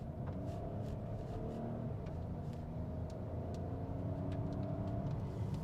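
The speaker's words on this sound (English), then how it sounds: "if I'm suddenly to demand a bit more power from the Citroen C5 Aircross" Citroen C5 Aircross mild hybrid car accelerating, a steady low engine rumble heard from inside the cabin with a smooth, faintly rising drone and no talking.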